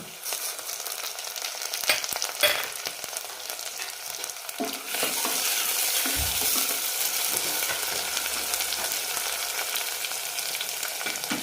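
Tomato dropped into a pan of sautéed onions for kuska biryani, with coriander and mint leaves to follow, sets off a loud, steady sizzle that swells after a few seconds, broken by scraping stir strokes, with no talk.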